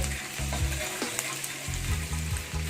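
Chopped ginger and garlic fry in a pan for a restaurant-style mushroom chilli, a continuous close sizzle with repeated rhythmic scrapes and clanks of a spatula stirring, and no talking.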